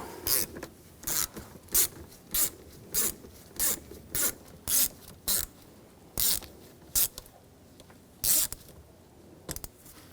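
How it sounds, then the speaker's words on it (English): A T25 socket drives out screws on the downstream oxygen sensor area of a 2007-2013 BMW X5 3.0L inline-six, giving a steady series of short, close ratcheting rasps at a regular rhythm, about a dozen bursts with no talking. "Now, using a T25 socket, we're going to take these screws out."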